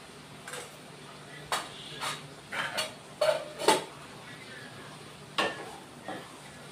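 Squash stir-fried with spices and red chilli powder in a pan, a quiet run of scattered scraping and clinking strokes at irregular intervals over a faint low sizzle, with no voices.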